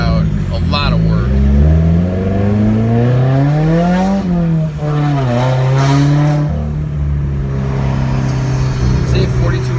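A straight-piped 2015 Subaru WRX Stage 2+ accelerating, its loud, raspy exhaust climbing and dropping through the revs close up, with someone talking over the engine drone throughout.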